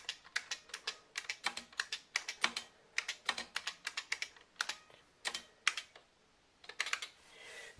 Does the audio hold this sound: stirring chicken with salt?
no